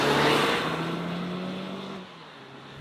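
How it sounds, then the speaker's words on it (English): A Mazda CX-60 SUV drives along a road, its steady engine and road hum loud and continuous from a close in-car position, easing slightly near the end. "So we've just hit the road in the CX-60."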